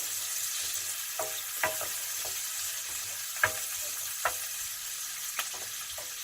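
Cod frying in a pan on a small stove turned up high, a constant bright sizzle close by, broken by several sharp scraping knocks as the food is stirred and moved about.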